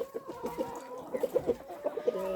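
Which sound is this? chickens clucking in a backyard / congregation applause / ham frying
chickens clucking in a backyard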